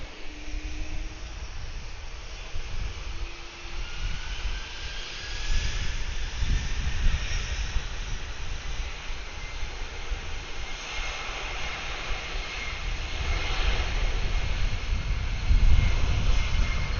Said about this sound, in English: The 767 will be departing for Madrid